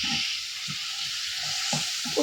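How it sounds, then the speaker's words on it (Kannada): Chicken liver and tomato fry in a pan with salt, giving a steady loud sizzle over a series of soft, irregular stirring knocks close up. No one speaks. "ಉಪ್ಪು ಹಾಕ್ಕೊಂಡು ತಿರ್ಗಾ ನಾವು ಚೆನ್ನಾಗಿ ಫ್ರೈ ಮಾಡ್ಕೊಳ್ಬೋದು"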